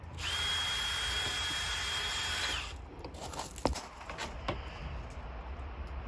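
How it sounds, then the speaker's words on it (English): A power drill with a metal bit whines steadily for a couple of seconds boring through a plastic gate post, then stops, followed by a few clicks and handling knocks nearby. "Drilling through the plastic post is no different to drilling through a wooden post."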